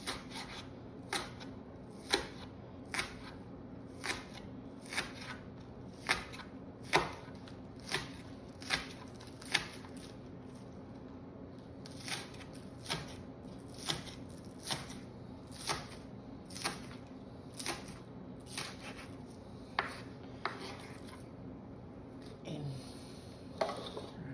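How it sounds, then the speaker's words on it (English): An onion being diced with a knife on a cutting board during preparation of a beef liver dish: sharp, evenly spaced chopping taps repeating roughly once a second over a quiet kitchen background, close and clear with no talking. "And then I'm gonna dice all of this."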